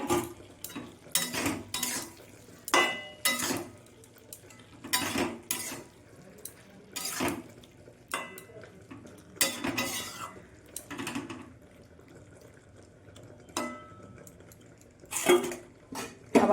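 Potatoes tipped into a pan of Bengali soybean and potato curry, a run of sharp metallic clatters and scrapes of utensils against the pan, coming in separate bursts with quiet gaps between them, close by.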